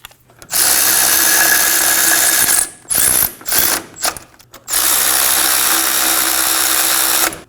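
A power tool or ratchet snugs the brake caliper bracket bolts on the rear brakes of a 2017-2024 Nissan Armada. Loud close bursts of whirring come in a long run, then several short choppy pulses, then another sustained run.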